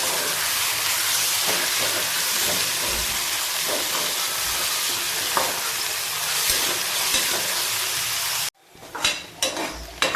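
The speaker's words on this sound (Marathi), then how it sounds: "त्यानंतर बारीक उभा चिरलेला कांदा टाकला आहे। कांदा हा चांगला परतून घेतो।" Thinly sliced onion frying and being stirred in a pan after whole spices, a loud continuous hiss and sizzle with scraping stirs, cutting out abruptly near the end into quieter clatter.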